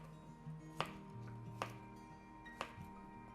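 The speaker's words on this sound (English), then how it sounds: "I'm going to cut it in half." A knife cutting through a yellow summer squash on a board, three sharp separate thunks spaced under a second apart, close and distinct over a quiet kitchen background.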